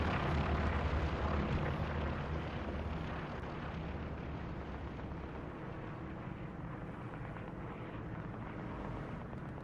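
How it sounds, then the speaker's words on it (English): A recon plane flying over the battlefield in the World War II shooter Hell Let Loose, a steady broad engine drone that is loudest at first and then eases slightly while holding throughout. "It's a decent recon plane."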